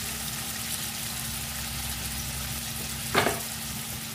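Paneer pieces fry in hot oil with a steady, soft sizzle and crackle, broken near the end by one brief louder hiss.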